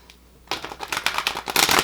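Tarot cards are shuffled in a quick riffle of rapid, crisp flutters that build to a dense burst, close and loud, with no talk over it.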